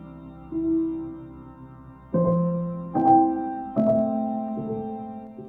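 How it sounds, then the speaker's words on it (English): Slow, melancholy piano notes from Minecraft ring out one at a time, each chord swelling and fading with a wet, spacious reverb tail. "It's that really melancholy, reverby piano."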